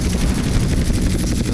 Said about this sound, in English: Machine guns fire.